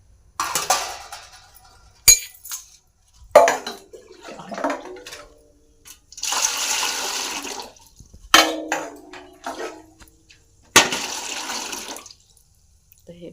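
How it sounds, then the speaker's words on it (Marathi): Water pours into a cooking pot on the stove in several separate splashing bursts, two jugfuls' worth, each starting abruptly, with short quiet gaps between them. "आपल्याला याच्यात पाणी टाकायचं आहे"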